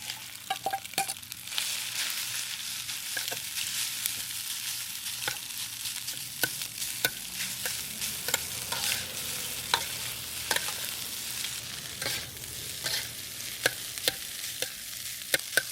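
Rice stir-fried in a pan for salmon fried rice, a steady close sizzle with repeated sharp taps and scrapes of a spatula at an irregular pace, no talking.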